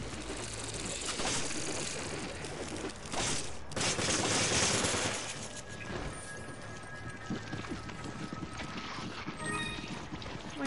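Rapid gunfire and chaotic action in the video game Resident Evil 5 form a dense, loud, continuous barrage with clattering mechanical bursts throughout.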